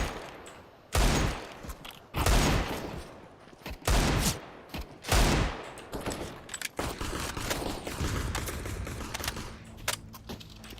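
Gunfire aimed at enemies in a video game comes in several sharp bursts, each a dense volley of shots, separated by short gaps, followed by softer clicking and mechanical rattles.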